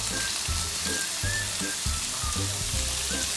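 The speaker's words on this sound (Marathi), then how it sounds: "कांदा व्यवस्थित लाल होतपर्यंत परतून घ्यायचा आपल्याला." Chopped onion frying in a pan for a rustic chicken kharda, a steady close sizzle with intermittent crackles and stirring scrapes, no talking.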